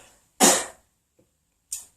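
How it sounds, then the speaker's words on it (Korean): A person gives two short, sharp coughs close by, the first louder and longer, the second a brief bark after a pause. "기침을 합니다"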